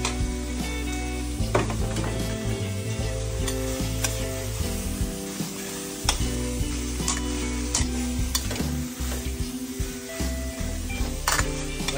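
Beans stir-fried in a hot pan for pancit canton, a continuous loud sizzle broken by scraping stir strokes and occasional utensil clinks against the pan, close up with no talking.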